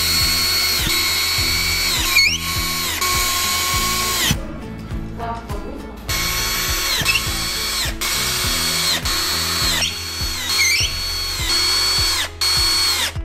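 Power screwdriver driving self-tapping screws into the frame of a black Barcelona double bed during assembly, loud whirring bursts with rising pitch as each screw seats, a short pause, then more drilling runs, no talk.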